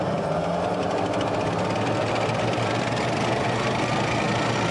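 Armored Field Artillery Ammunition Support Vehicle engine running at a steady, continuous low rumble and drone, loud and close with no talk.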